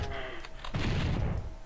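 Heavy gunfire from a weapon in Doom 64 booms close and loud, a couple of shots blending into a dense rumbling blast.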